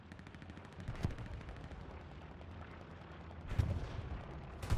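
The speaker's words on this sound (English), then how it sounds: "he's getting artillery fire coming danger close" Artillery barrages and gunfire in a military video game battle, with repeated rapid shots rattling throughout and heavier booming impacts near the start and toward the end, loud and continuous with no talking.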